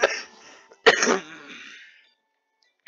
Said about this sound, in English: I have a little bit of coughs.